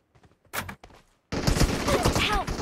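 Gunfire in the mobile game PUBG Mobile: a few scattered shots, then a loud, dense volley of rapid fire that keeps going to the end, with voices talking over it.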